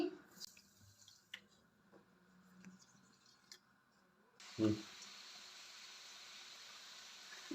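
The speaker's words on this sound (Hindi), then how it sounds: "इस कप की मदद से 1 कप भरकर पानी ऐड करूंगी" Water poured from a cup into a pan for sugar syrup, a short close splash followed by a steady faint pouring hiss, after quiet kitchen clinks and small taps.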